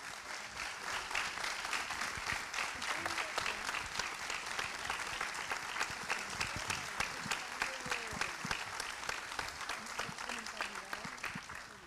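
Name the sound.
audience applause for the panel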